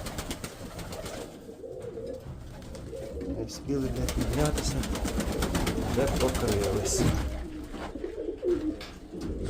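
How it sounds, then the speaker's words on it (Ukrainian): Pigeons coo softly in repeated throaty calls while someone talks over them nearby. "Що то за голуби такі?"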